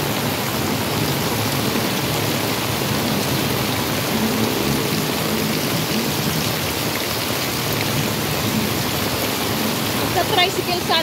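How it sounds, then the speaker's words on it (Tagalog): Heavy typhoon rain pours steadily and loudly throughout amid flooding, a dense hiss with a faint voice or two murmuring beneath it. "Lakas ng ulan."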